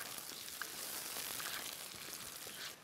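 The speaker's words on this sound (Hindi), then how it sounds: "अब हम इसमें डालेंगे टमाटर और इसे हम तब तक भून लेंगे जब तक वो सॉफ्ट हो जाए" Tomatoes and onions fry in a pan, giving a steady, close crackling sizzle with fine spattering pops that runs evenly throughout and fades slightly at the end.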